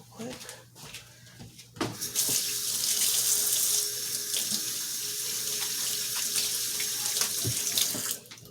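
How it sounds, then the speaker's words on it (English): Tap water runs steadily into a sink as hands are washed, a loud continuous gush lasting several seconds before cutting off, with faint clatter around it. "Wash my hands real quick."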